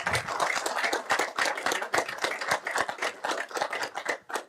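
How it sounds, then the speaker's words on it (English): A room claps for honorees during a city council session, with dense, crisp handclaps at close range continuing steadily before tapering off at the end. "Let's give them another round of applause, please."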